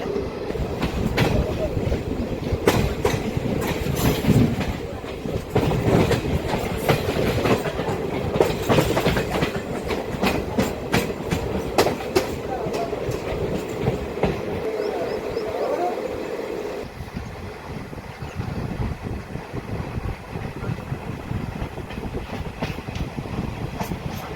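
A DEMU local train runs between Kacheguda and Karimnagar, close and loud, with continuous rumbling and rhythmic clickety-clack of wheels over rail joints, a steady engine hum, and the sound shifting partway through the run.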